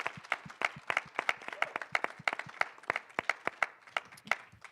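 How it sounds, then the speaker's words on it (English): Audience applause at an evening constitutional debate event, a steady round of many hands clapping in dense, rapid rhythm, moderately loud and sustained without talk. "let's go ahead and give him and our panelists a round of applause."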